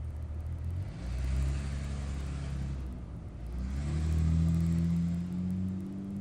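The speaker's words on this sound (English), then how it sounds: "bad boy starting up like a tank out there" Loud, unmuffled car engine in a video game, rumbling low and rough as it starts and revs, with a brief dip near the middle before surging louder again; no talking.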